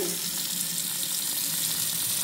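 A kitchen tap running into a sink, a steady hissing rush of water with even loudness and no breaks.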